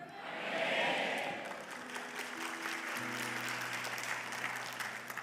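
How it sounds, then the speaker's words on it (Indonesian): Scattered, thin clapping from a church congregation during a sermon, a steady patter that swells briefly then settles, with a low sustained tone running underneath. "Kalau tepuk tangan begitu lebih baik gak usah tepuk tangan"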